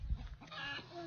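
A chicken clucks briefly in a short burst of low, throaty calls, heard faint and fairly close with no talking.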